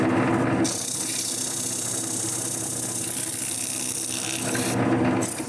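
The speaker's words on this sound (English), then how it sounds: "When I'm happy with its shape, I sand it real nice." Sandpaper rubbing a spinning turned maple wood cap on a lathe, a continuous close rasping hiss over the lathe's steady motor hum, with no talking.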